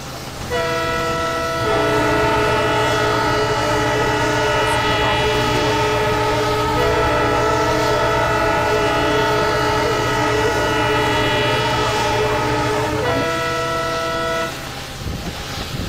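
Shramjeevi Express passenger train crossing the Garhmukteshwar bridge, sounding a loud, sustained multi-tone horn for about twelve seconds over the steady rumble of wheels on the span.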